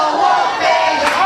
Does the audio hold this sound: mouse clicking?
no